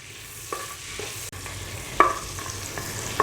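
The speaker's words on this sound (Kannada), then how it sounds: "ಇನ್ನು ಎರಡು ಬಿರಿಯಾನಿ ಎಲೆಗಳನ್ನು ಇದ್ದೀನಿ ಇವೆರಡನ್ನು ಫ್ರೈ ಮಾಡ್ಕೋಬೇಕು" Bay leaves frying in butter in a pan for North Karnataka biranji rice, a steady close sizzle with a few sharp stirring clinks and scrapes, no voices.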